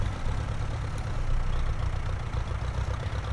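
A Ferguson tractor engine runs at a low, steady throb while the machine is moved, a continuous rumbling drone with no talking over it.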